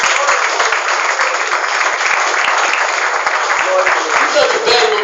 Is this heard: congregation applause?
yes